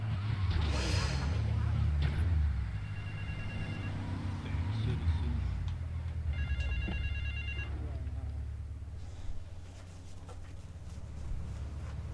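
A payphone in GTA III Remastered rings in short repeated electronic bursts beneath continuous game ambience and engine rumble, fairly close and steady.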